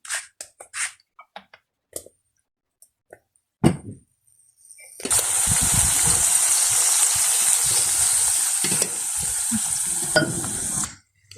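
Onions frying in hot oil in a pan for a home-cooked vegetarian village meal, a steady loud sizzle starting midway after a few soft clinks and taps, with stirring scrapes running through it until it stops near the end.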